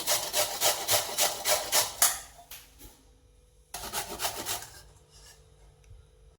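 Peeled bottle gourd rubbed against a grater, a close run of brisk rhythmic rasping strokes that stops, followed by a second short burst of grating after a pause.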